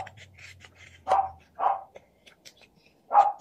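A dog barks downstairs in a house, giving three or four separate short barks with quiet gaps between them, somewhat distant in an otherwise still room.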